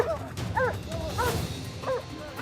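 A 40-kilo Belgian Malinois police dog barks in a repeated series of sharp, fairly close barks at an uneven rhythm, over a low background hum.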